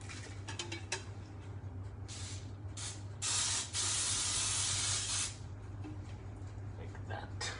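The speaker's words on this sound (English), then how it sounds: "We're gonna spray the pan." Cooking spray hisses onto a cake pan in a steady burst lasting about two seconds, set against kitchen background noise, a low hum and scattered clicks.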